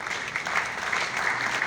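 An audience at a comic poetry event claps steadily in a dense, continuous burst of applause.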